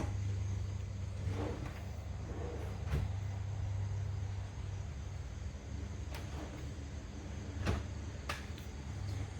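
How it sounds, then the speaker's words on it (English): A slow-close kitchen drawer in a tiny house glides shut with soft muted thuds, heard twice over a steady low background hum. "All of the drawers are slow close."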